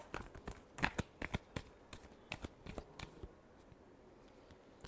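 Tarot cards are shuffled in quick, crisp bursts of riffling and slapping clicks, close and fairly quiet, tapering off toward the end.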